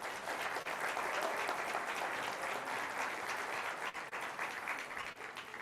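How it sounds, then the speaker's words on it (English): An audience at a hemispheric security conference at a university applauds a panel as it leaves the stage, a sustained, even wash of many hands clapping at moderate volume that thins slightly toward the end. "Let's have another round of applause while they walk off the stage."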